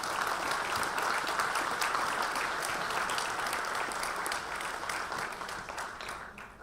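A gala dinner audience applauds in a full, dense wash of clapping that stays strong for several seconds, then thins and tapers off toward the end.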